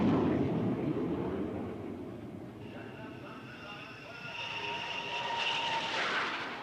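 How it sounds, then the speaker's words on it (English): An A-6 Intruder bomber flies past with a droning jet-engine roar that fades and then swells again, heard with a soft whine as it nears. "The Intruder is designed to fly at slow speed for maximum accuracy."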